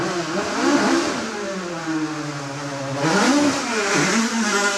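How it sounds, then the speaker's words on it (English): A Ford Escort race car engine revs hard nearby at a hillclimb, its pitch climbing and dropping in repeated surges, loud and raw with no talking. "Little Ford Escort making a lot of noise."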